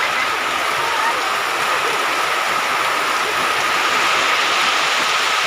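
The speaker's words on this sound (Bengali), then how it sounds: "বৃষ্টি পড়ছে।" Steady rain pours down outdoors in a continuous, loud, even hiss with no let-up, like heavy rainfall close by.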